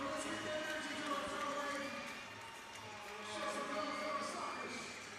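Sunday-evening indoor soccer crowd at a Tacoma Stars versus San Diego Sockers match, a broad, steady roar of cheering and shouting voices filling the arena, swelling and easing over several seconds.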